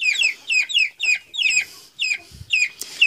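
Young chickens give rapid bursts of high chirping clucks in quick repeated clusters, close and fairly loud, with a brief thump of movement in between.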